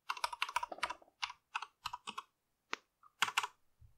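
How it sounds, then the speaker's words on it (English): A password is typed on a computer keyboard while setting up a Raspberry Pi, with quick irregular clicks in short bursts, several isolated keystrokes and a final flurry, close and clear with no talk. "So I'm going to type in the password for the Pi user on my Raspberry Pi."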